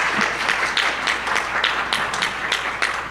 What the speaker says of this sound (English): give a cheer for the women